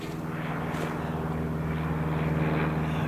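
Propeller airplane droning overhead on a cold, clear winter day in the bush, a steady low engine hum with pulsing harmonics holding at even loudness throughout, fairly close and unbroken.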